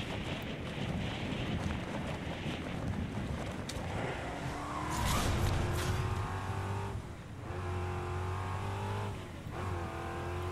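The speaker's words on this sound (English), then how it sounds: "I forgot this has that really annoying engine revving sound." A vehicle engine revs steadily in the Fortnite video game, a continuous whining drone with rising and shifting pitch, loud and constant throughout with no voices.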